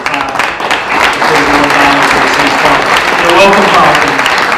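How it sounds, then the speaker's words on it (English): A city hall audience at the 2018 State of the City address in Mount Vernon, New York, breaks into loud, sustained applause, with crowd voices and cheering mixed into the clapping. "So you can clap for"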